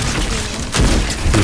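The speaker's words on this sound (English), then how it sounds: "Someone else is shooting me." Gunfire in the Fortnite video game, a few loud booming shots with a heavy thud around the middle and another near the end, over a dense, noisy game background.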